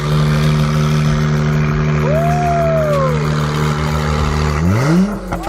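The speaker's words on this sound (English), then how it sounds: "this Acura NSX apparently has an exhaust on it." Acura NSX with a turbocharged hybrid V6 and an aftermarket exhaust, revving loudly and close by with a steady engine drone, a rising whine midway and a final rev swell before it cuts off.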